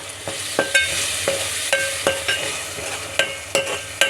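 Tomatoes are stirred into a fish curry in a pan with a spoon, giving steady rhythmic scraping strokes over a continuous frying sizzle, close and clear with no voices.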